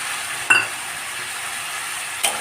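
Prawns frying in a pan of fig curry with salt and turmeric give a steady hiss of sizzle, broken by two sharp scraping stirs of a utensil, close and fairly loud, with no talking.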